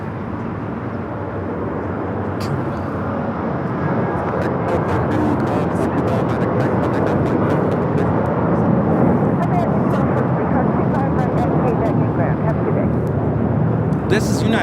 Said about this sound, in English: This is United Airlines 2449 taking off to Las Vegas on the 737-800